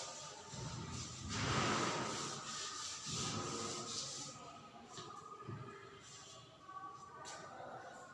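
Writing is rubbed off a classroom board with a soft, continuous rasping swish, close and moderately loud, varying in strength over several seconds.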